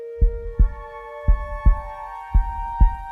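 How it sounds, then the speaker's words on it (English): Heartbeat sound effect from the film Doctor Sleep: deep, booming double thumps repeat in three paired beats over a steady tonal hum, close and prominent. "And then we get that damn heartbeat again."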